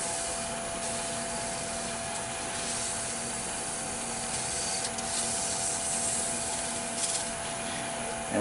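220-grit abrasive rubs against a spinning wooden bud vase on a lathe, giving a steady, continuous close sanding hiss over the machine's hum, with no voices.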